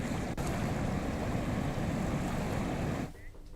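A boat crosses a river in rural Chhattisgarh, with a continuous rush of engine, water and wind noise that cuts off abruptly near the end.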